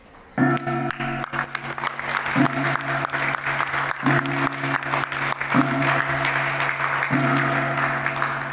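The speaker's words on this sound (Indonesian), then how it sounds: "boleh beri aplaus yang lebih meriah" Audience applause at the opening ceremony of a regional young entrepreneurs' business forum: sustained, steady clapping from a crowd, filling the whole stretch at an even level while a voice speaks over it at times.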